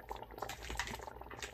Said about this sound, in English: Oh my gosh, it's bubbling up.